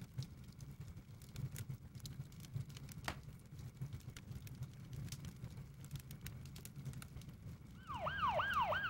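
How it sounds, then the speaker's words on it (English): Emergency sirens begin wailing near the end, rising and falling in a fast repeating sweep over a murky background of low rumble and scattered clicks. "Sirens started sounding."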